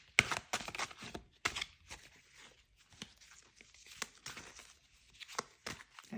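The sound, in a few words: shuffling a tarot card deck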